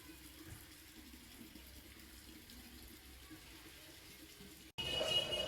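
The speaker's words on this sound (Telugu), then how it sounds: "కుళాయి నీళ్ళు ఎలాగో వచ్చాయి కదా" Tap water runs into containers at a home, a faint steady trickle that suddenly becomes a louder, closer gushing flow near the end.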